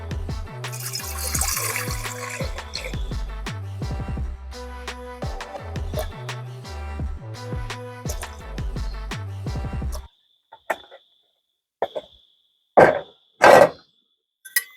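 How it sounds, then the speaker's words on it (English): Water running and splashing into a cooking pot for a Jamaican jackfruit seed pumpkin porridge, sounding as a continuous flow over music, then short separate gushes and pours once the music stops, loud and close. "Get in some water."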